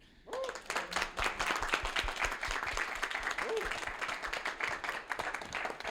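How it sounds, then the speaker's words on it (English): A crowd claps steadily for several seconds, dense applause that starts abruptly and holds at an even level. "we need a round of applause for everybody who donated"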